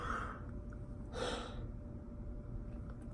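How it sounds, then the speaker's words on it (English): One person yawns, a short breathy exhale and sigh rising and fading over a second or so, close and fairly quiet against low background hum, with no talk around it. "sorry I'm yawning so much"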